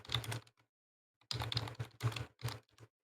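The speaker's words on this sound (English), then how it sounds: "I could hear you typing them." Rapid keyboard typing on a computer keyboard in bursts, a short tapping run, a pause, then several more clustered bursts, fairly close and alone without talk.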